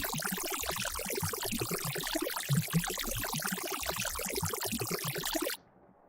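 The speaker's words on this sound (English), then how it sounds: "we have spectral noise, which sounds like this" A spectral noise sample from a sample pack runs in a dense, bubbling wash like pouring or trickling water, steady for about five seconds before cutting off abruptly into near silence.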